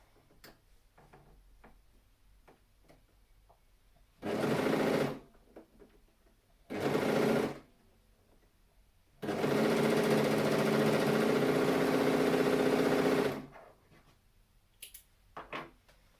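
A sewing machine stitches a seam through many layers of stretch fabric for a headband, running in three bursts: two short runs, then a longer steady stretch of about four seconds, with quiet handling between.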